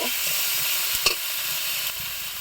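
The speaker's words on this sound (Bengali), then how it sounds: "আলুর সঙ্গে সব মশলাগুলো মিশিয়ে নিব।" Potatoes with garlic, cumin and green chilli paste sizzle steadily in a frying pan as they are stirred, with a brief scrape of the utensil midway.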